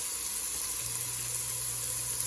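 Vegetables saute in a pan with sesame, giving a steady, close hiss and sizzle that holds evenly throughout with no talking.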